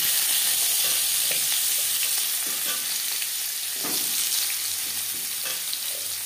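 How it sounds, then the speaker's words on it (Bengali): Pumpkin pieces fry with whole cumin in refined oil, a dense steady sizzle filling the background while a spatula scrapes and taps the pan at irregular intervals. "15-20 সেকেন্ড বড়ি জিরে ভেজে নেওয়ার পর দিয়ে দেব কুমড়ো।"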